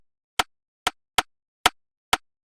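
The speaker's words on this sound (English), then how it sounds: "Just a generic Afrobeat type of rim like bounce." Sharp, dry Afrobeat rim-shot clicks in a sparse, bouncing pattern, six hits with uneven spacing, crisp and close with nothing else underneath.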